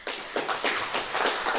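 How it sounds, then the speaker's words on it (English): Audience applause at a live tech user group meetup, a steady patter of hand claps from a modest crowd, fairly close and without speech. "Thank you for clapping."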